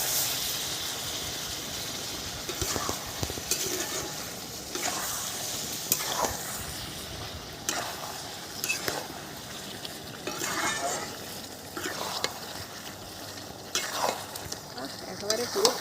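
A paste of ground poppy seeds and green chillies fries in a pan while a spatula stirs it, with repeated rhythmic scraping strokes over a constant close sizzle.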